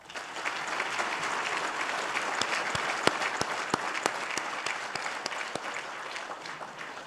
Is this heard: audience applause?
yes